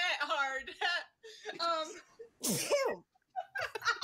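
A single sharp sneeze bursts out in the middle of a person's speech during an online stream, loud and close, with talking before and after it.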